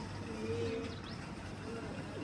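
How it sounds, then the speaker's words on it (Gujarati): Pigeons coo softly in low, rounded calls outdoors, faint beneath a steady background hum. "કેટલા બધા કબૂતરા દો"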